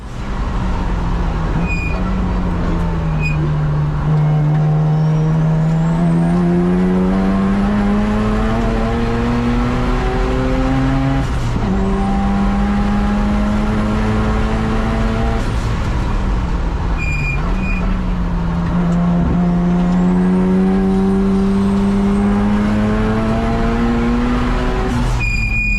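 A 400+ whp modified 1998 Mazda RX-7 FD time attack track car revving hard through repeated gear shifts, pitch climbing then dropping at each change, loud and close throughout.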